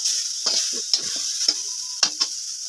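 Onions sizzle steadily in hot oil for a village-style duck curry, a constant hiss broken by several sharp scraping stir strokes.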